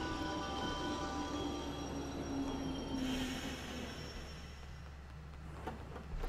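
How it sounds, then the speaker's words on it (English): A train rumbles past steadily in the video game Yo-kai Watch 2, a continuous rolling roar with faint wheel squeal, no voices over it. "Kids at home, please do not run at the train whilst it's moving like we just did then."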